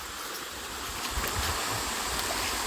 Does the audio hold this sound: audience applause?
no